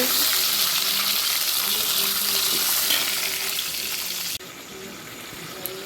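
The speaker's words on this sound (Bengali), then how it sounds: "টমেটমটা দিয়ে দেবো টমেটমটা ভালো করে ভেজে নেব" Tomatoes sizzle loudly in hot oil in a pan, a dense steady hiss that drops abruptly in level near the end and continues more quietly.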